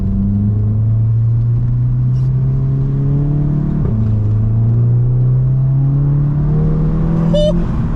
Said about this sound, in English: as soon as you hear that engine grunt, ooh, you can't beat these engines